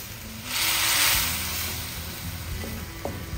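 Tofu dropped into mapo sauce with peppercorn in a pan gives a soft, close hissing sizzle that swells briefly and then eases into a low simmer, with a few light utensil taps near the end.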